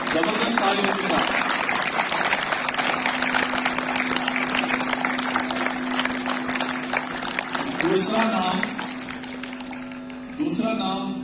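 Sustained audience applause at a school personality development workshop awards event, loud dense clapping throughout that eases slightly toward the end, with brief voices and a steady tone beneath.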